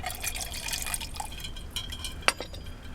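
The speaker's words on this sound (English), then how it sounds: "I'm going to add some water to that." Water pours and drips into a mug set in a pan for steam baking, a faint trickle with small splashes and one sharp clink near the end, no talking.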